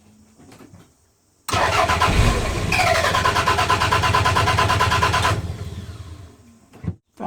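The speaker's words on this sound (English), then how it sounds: "Right, another crank coming up." Toyota MR2 engine cranking over during start and stall diagnostics: a loud, steady starter whirr with rhythmic pulsing that runs for about four seconds, then cuts out, with quiet clicks before and after.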